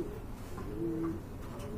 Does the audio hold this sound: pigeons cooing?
yes